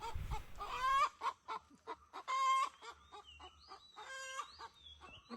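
Loud clucking and squawking calls from a rooster, several sharp bursts in a row, close by and otherwise quiet in between.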